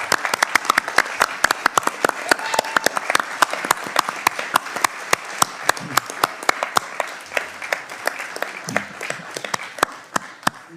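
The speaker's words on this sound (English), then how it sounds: "let's have a round of applause for him" Round of applause in a Senate Judiciary Committee hearing room, sharp individual claps over a steady wash of clapping from the room, lasting about ten seconds, with faint murmuring voices underneath.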